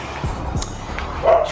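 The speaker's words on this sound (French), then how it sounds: "c'est le chien des voisins." A neighbours' dog at a small Los Angeles studio gives a couple of short, fairly close barks with a yip, heard over light room noise.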